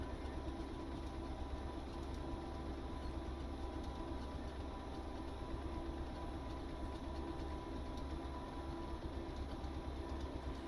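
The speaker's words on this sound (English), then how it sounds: "You see it's starting to spool up the generator." Locomotive generator spooling up in the Stormworks video game, a steady, dense rumbling drone that holds even and loud throughout with no clear change in pitch, no voices.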